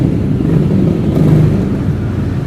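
A John Deere tractor engine idles nearby with a steady, low diesel rumble and no break in the sound.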